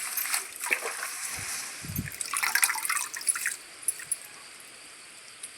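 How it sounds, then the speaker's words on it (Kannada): Water drips and splashes from washed colocasia leaves as they drain, scattered irregular drops and trickles close by, louder at first and then thinning out. "ಚೆನ್ನಾಗಿ ನೀರು ಬಸಿದು ಅದನ್ನು ಒಂದು ಪಾತ್ರೆಯಲ್ಲಿ ಹಾಕ್ಕೊಳ್ತಿದ್ದೀನಿ"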